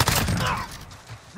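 Gunfire in Call of Duty Modern Warfare, a quick burst of rapid shots up close, trailing off into a brief quieter pause before another sound starts.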